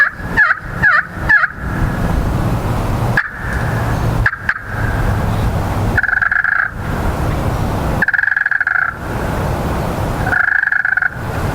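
A glass turkey pot call worked with a striker, producing bursts of short clucks followed by longer rolling purrs, close and loud with brief pauses between the strokes.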